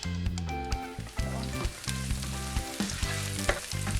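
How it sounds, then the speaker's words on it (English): Onions sautéing in hot oil in a pan for nikujaga give a steady, close sizzle with small crackles, running throughout under tonal background music. "I'm just checking to see that the pan and the oil is hot, and then we are going to saute the onions."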